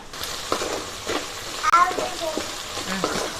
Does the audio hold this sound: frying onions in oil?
yes